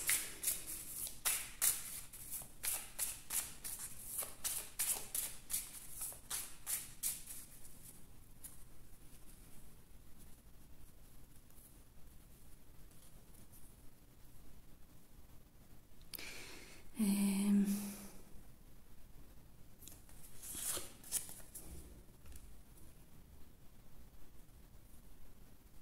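Tarot-style playing cards are shuffled in quick, soft riffling bursts early on, followed by a few brief taps and slides as cards are drawn and laid down, all close and quiet with no talking.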